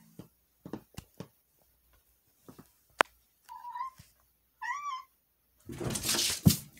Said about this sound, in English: She jumped up on the door. Silly cat.